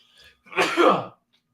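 A single loud, explosive sneeze burst close by, lasting about half a second and followed by silence.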